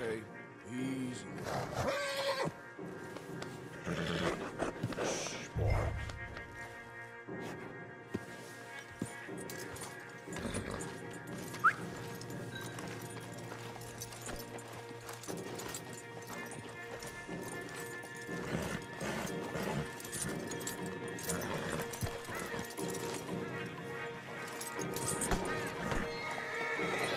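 Stallions in a Rockstar video game neigh and whinny while hooves clop steadily throughout, with characters talking over the horses and scattered louder thuds.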